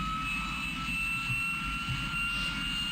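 Hawker Sea Hawk jet engine spooling up in Flight Simulator 2020, a loud steady roar with a sustained high whine, continuous and close without pause.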